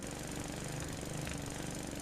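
A lawn mower mowing in Finnish Cottage Simulator gives a steady, dense mechanical engine drone that runs without a break, close and fairly loud, with no speech.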